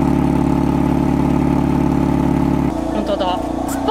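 Cabin of a BMW M4 coupe with its engine running, a steady low rumble filling the car before easing slightly, with people talking over it.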